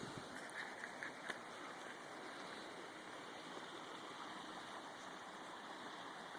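Water of a creek flowing steadily, a constant broad rushing wash heard faintly and evenly throughout, with a few soft birdlike chirps near the start.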